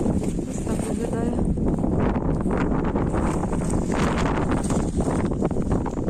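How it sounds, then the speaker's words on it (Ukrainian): Strong outdoor wind buffets the microphone in continuous loud gusts and rumble, with rustling throughout, at a building site where a garden bed is being mulched. "А, який вітер."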